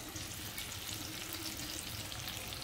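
Boiled potato pieces fry with sesame seeds, asafoetida and turmeric in oil in a pan, giving a dense, even sizzle that holds steady throughout, close and continuous, with no speech.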